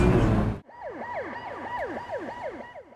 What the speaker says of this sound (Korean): 사이렌 소음으로 인해 소방서를 혐오 시설로 생각하는 주민